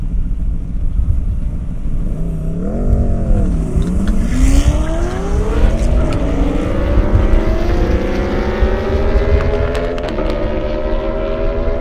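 A Chevrolet Corvette launches hard down an airstrip, its engine note loud and climbing through several gear changes, rising in pitch as it builds speed, with no talk.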